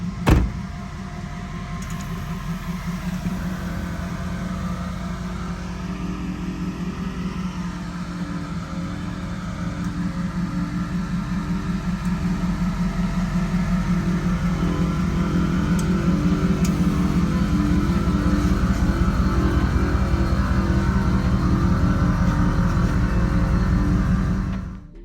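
A body-dropped Chevy Express van rolling into a shop, its engine holding a low, steady idle hum that grows gradually louder over about twenty-five seconds before cutting off abruptly.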